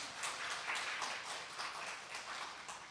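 A forum audience applauds, a quiet, even patter of many hands clapping throughout from a little distance.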